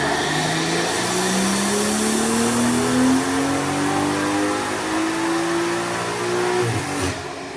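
A BMW 340i with an upgraded turbo on its B58 engine, running pump 93 fuel, pulls hard on a dyno, one loud, sustained rev with the pitch climbing steadily before the engine drops off near the end.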